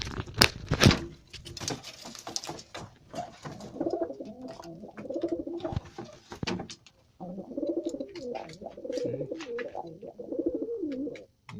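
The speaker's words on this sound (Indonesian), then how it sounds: "Merpati lahap memakan grid yang sudah kita buat." Pigeons cooing steadily close by while feeding on homemade ground grit, with soft pecking and patter mixed in among sharp taps and a brief door-like knock near the start.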